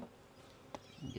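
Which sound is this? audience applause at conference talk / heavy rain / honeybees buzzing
honeybees buzzing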